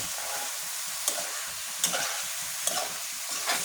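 Bottle gourd and tomato sautéing in a pan, a steady sizzle with a few sharper scraping stirs spaced about a second apart, close and moderately loud with no talking.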